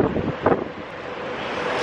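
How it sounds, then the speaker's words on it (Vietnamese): Steady wind roars and buffets against the microphone while walking into a cool breeze, a broad continuous rush with a couple of stronger gusts early on and no talking. "Mọi người nghe thấy tiếng gió hù luôn"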